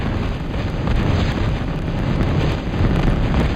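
Units in a strategy video game firing on a wall with rockets, a dense roaring wash of blasts and gunfire at a constant loud level with no speech.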